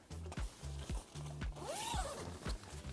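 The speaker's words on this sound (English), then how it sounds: "then we can unzip the dry zone" A tent's dry-zone zipper being unzipped in several short, close, ratcheting pulls, each a crisp rasp that stops and starts in quick succession.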